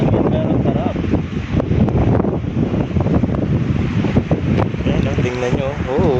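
Steady wind buffets the microphone on a small boat at sea, with surf and waves washing continuously around the hull while excited voices talk and exclaim throughout.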